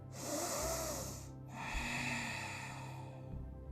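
A person draws a slow, audible breath in while holding a pose in a morning yoga session on a mat, the airy inhale steady and close with a soft break partway through and no talking.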